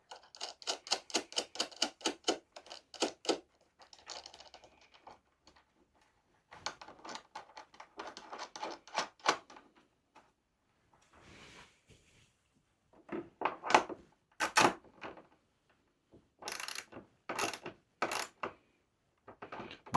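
Sharp mechanical clicks and ratcheting bursts from tightening the winglet mirror bolts on an Aprilia RS 660, heard up close in separate rapid clusters with pauses in between and no talking.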